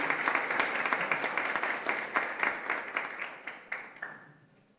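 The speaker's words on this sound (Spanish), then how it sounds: "con un aplauso también le damos la bienvenida" Conference audience applauding to welcome a guest, the head of the magistracy council: a dense burst of hand clapping from a crowd, steady at first and then thinning and fading out over about five seconds.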